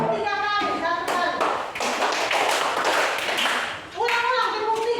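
Classroom of children clapping in a patterned group rhythm, close sharp hand claps in a short burst between bits of talking.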